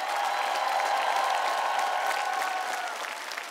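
Dense, stormy applause from a studio audience at a Russian TV singing show, greeting a semifinalist; steady and sustained throughout with no voices on top.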